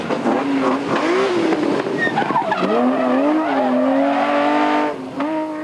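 A Trophée Andros-derived rally car running at the 2002 Rallye de la Famenne in Belgium passes with a loud, rising and falling engine howl and sliding tire squeal, close and continuous, briefly dropping near the end.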